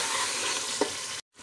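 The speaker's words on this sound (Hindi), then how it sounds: "ये 1 प्याली दही डाल दिया हमने और फ़ौरन चला देंगे" Yogurt being stirred into a pot of frying pulao, a steady broadband sizzle with a single short scrape of the spoon, then the sound cuts out abruptly near the end.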